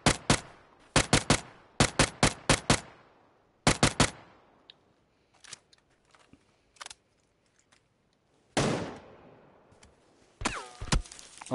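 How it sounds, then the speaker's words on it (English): Bursts of automatic gunfire in PUBG, sharp loud volleys in rapid clusters with gaps between them, then further scattered shots and a final burst, no voices. "Someone's fucking shooting."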